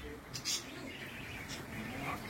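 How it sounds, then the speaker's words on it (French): Small parakeets and parrots chirp inside a historic ancestral house in Cebu, with short, bright bird calls rising over a roomy, echoing indoor background. "Donc il y a des petites perruches, des perroquets"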